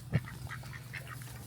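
Ducks quack in short bursts while feeding on watermelon, with a turkey nearby; a loud close call near the start is followed by softer scattered quacks over a steady low hum.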